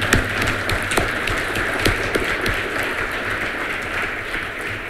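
An event audience applauds its sponsors in a dense, even wash of clapping that runs the full length without talk.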